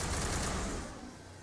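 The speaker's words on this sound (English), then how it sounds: "I hear gunfire." Rapid bursts of automatic gunfire from a Mass Effect firefight, somewhat distant and muffled, fading over a brief moment.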